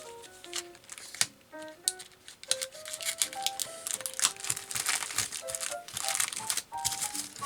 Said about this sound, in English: This tape is resisting a scalpel cut.